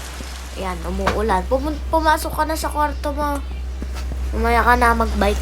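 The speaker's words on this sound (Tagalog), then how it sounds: "Ay, umulan. Ayan, umuulan." Rain falls steadily outdoors as a constant hiss beneath a child and an adult talking close by.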